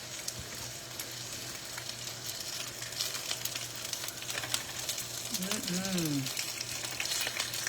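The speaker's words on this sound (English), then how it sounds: "stir frying the rest of the vegetables" Steady, close sizzling of vegetables being stir-fried in a hot pan, with a faint clatter and a brief voice near the end.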